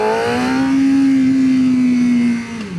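A 600cc sport bike engine revs hard close up, its pitch holding high and steady before dropping away near the end, loud and alone.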